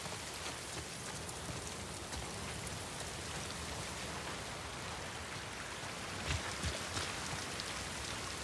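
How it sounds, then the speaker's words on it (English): Steady drizzling rain in The Last of Us 2, a soft even hiss of drops with no thunder, continuous and fairly quiet, with a couple of slightly louder patters near the end. "This rain is quite nice. It's a nice drizzle."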